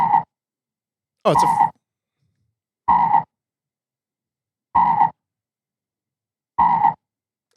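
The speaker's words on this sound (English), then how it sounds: "That's a frog." A frog croaks five times in evenly spaced bursts, each a rough, throaty call; a voice speaks briefly at the start before the croaks.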